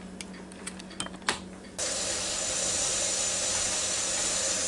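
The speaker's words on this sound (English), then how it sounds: "Still got a little steam coming out from around it" Steam hisses steadily from the pressure valve of an Instant Pot Duo Crisp air fryer cooker, a broad continuous rush that starts abruptly after a few light clicks and holds alone at steady loudness.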